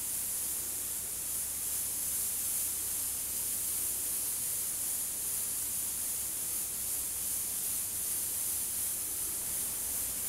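A Renegade airbrush with a 0.21 nozzle sprays a fine line, giving a steady, continuous airy hiss that holds evenly for about ten seconds with no talk.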